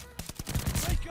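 Suppressed NZ-41 rifle fire in a shooter video game, a fast run of muffled, thudding shots packed into about a second, close and fairly loud with no talking over it.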